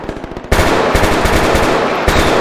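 Suppressive machine gun fire in the Roblox military simulation Novyrus MilSim, a loud, close, sustained burst of rapid shots with a sharp onset, then continuous rhythmic fire to the end.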